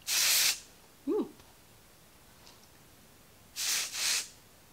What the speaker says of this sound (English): It does definitely have that kind of aerosol spritz going on